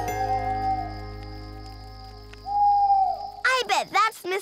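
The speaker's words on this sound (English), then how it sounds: "I bet that's Mr. Blue Jay's friend, Mrs. Owl." An owl hoots in a cartoon night scene by a campfire in the woods, with tonal calls sounding over a steady low hum before a quick series of louder, close hoots near the end.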